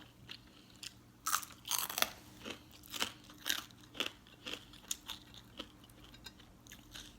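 Crunchy blanched vegetables being chewed close up, a series of sharp crisp bites and crunches in an irregular rhythm, loud against a quiet background with no talking.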